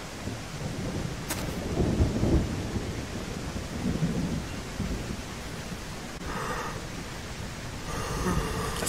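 In the jungle survival game Green Hell, rolling thunder rumbles low and heavy through a stormy ambience, swelling loudly around the early part, then fading into softer rain-like hiss with faint rustling.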